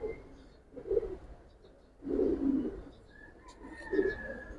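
Silver Bagha and Giribaz pigeons coo close by in a few soft, throaty bursts separated by short pauses, with faint chirps in the background.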